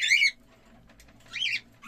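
Two short, shrill calls from a male cockatiel ring out close by, separated by a brief pause, with faint background noise between them.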